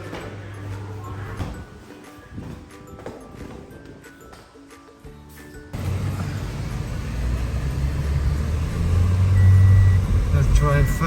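A car drives along a road on Koh Larn Island, Thailand. The engine and road rumble start low, then grow louder and steadier partway through.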